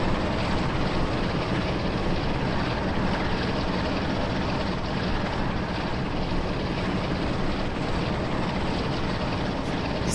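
Diesel locomotive shunting at full throttle in the Train Sim World 4 West Somerset route: a loud, continuous engine roar with a steady, rough texture that holds for the whole stretch without talk.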